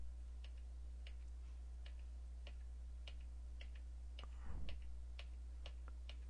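Light, irregular clicks of arrow keys tapped on a computer keyboard, quiet and close against a steady low hum, with a brief soft rustle partway through.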